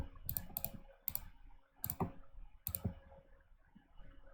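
Typing on a computer keyboard while entering a parameter in Revit software: close, crisp clusters of key clicks in short bursts with brief pauses between them.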